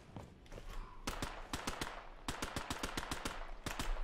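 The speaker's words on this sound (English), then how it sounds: "Set up behind you with Browning" Browning machine gun fire in the WW2 shooter Hell Let Loose: rapid bursts of sharp automatic shots in quick rhythmic strings, with other gunfire cracking around them in a battlefield setting.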